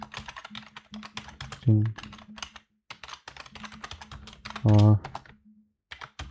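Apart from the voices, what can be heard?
typing Python code on computer keyboard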